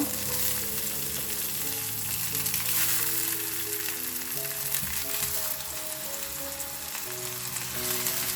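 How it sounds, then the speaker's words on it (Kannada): Tomato halves sizzle in a pan over a low flame, giving a steady, close frying hiss that runs throughout with a few faint tonal hums beneath and no talking. "ಫ್ಲೇಮನ್ನು ಲೋ ಅಲ್ಲಿ ಇಟ್ಕೊಂಡು ನಾವು ಕಟ್ ಅಂತ ಟೊಮ್ಯಾಟೋನ ಇದ್ರ ಒಳಗಡೆ ಇಟ್ಕೊಳ್ಳೋಣ"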